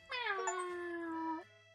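A single drawn-out cat meow from the video game Cats Hidden in Paris, clear and close, rising then holding a steady pitch for over a second before stopping, alone without talk.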